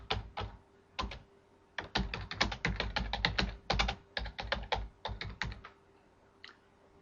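Someone types on a computer keyboard, close and clear, in irregular bursts of crisp key clicks with short pauses between, no voices over it.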